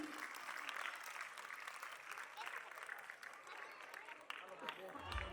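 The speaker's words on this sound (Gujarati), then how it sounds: "આ વિદ્યાર્થીઓ માટે તાળીઓનો ગડગડાટ ચાલુ જ રહેવો જોઈએ" Applause for a student at a school prize ceremony, a sustained crowd of hands clapping steadily and fairly near, with a few voices faintly underneath.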